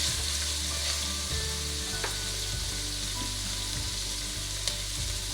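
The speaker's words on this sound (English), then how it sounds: "Now we're going to add in our onions. Give that a quick mix." Onions fry in a pan and are stirred, giving a constant close sizzle with scattered knocks and scrapes from the utensil; no voices.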